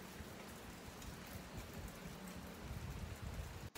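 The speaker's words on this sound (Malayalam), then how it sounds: "ചെറുതായിട്ടൊരു മഴയൊക്കെ പെയ്യുന്നുണ്ട്" Light rain falling outside on a windy day, a soft, steady patter heard close and continuous throughout, with a faint low rumble beneath.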